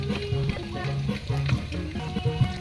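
Dried fish (bulad) fries in a hot pan, crackling and sizzling steadily with popping bursts of oil throughout and no talk.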